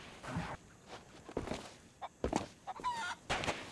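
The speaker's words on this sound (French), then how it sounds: "Calme-toi la poule." A chicken in the pirate video game Sea of Thieves clucks in scattered short bursts amid footsteps and other game noise, moderately loud with uneven spacing and no speech.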